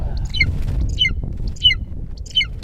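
A golden eagle on a Kazakh winter fox hunt gives four sharp, high squawking calls at a regular pace, set against low wind and rumbling outdoor background noise.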